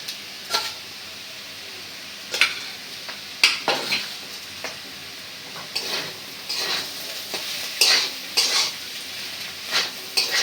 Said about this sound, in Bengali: এখন আমি ডিম আর করলা একত্রে ভেজে নিলেই রেডি